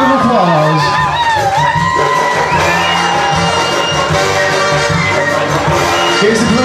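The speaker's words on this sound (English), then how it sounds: "let's give them a nice round of applause" Wedding guests clap and cheer at a reception as the groom's family is introduced, a dense, loud burst of applause mixed with whoops and shouts, with a voice talking over it.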